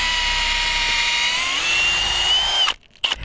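A power drill whines steadily as the bit bores down through roof plywood, its pitch dropping under load as it bites into a stud. The motor then cuts out abruptly, leaving brief gaps and a short final rev.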